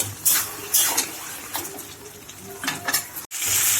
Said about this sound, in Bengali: আরও পাঁচ ছ মিনিট ভালো করে কষিয়ে নিয়ে নিব